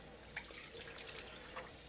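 Sauerkraut soaking in a bowl of water gives faint, quiet liquid sloshing and trickling sounds, with a few small splashes spread across the short stretch.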